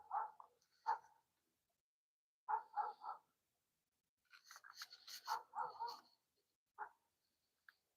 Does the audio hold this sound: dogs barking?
yes